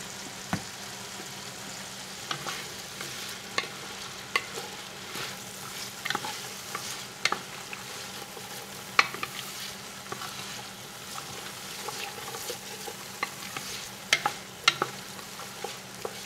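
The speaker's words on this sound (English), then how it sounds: "I got 6 cups of chopped white onions in here. So now we're just going to stir this around" Chopped white onions fry in a pot for a Cajun chicken étouffée and are stirred, making a steady close sizzle broken by regular scraping strokes and clicks of the spoon against the pot.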